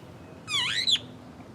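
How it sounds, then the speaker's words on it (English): A superb starling gives one short, clear call: a bright whistled phrase with a rising and falling sweep that ends in a sharper note. It sounds fairly close and stands alone against a quiet background. "The superb starling."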